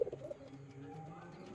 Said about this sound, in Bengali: এক পেয়ার এই যে গিরিবাজ পায়রা দেখুন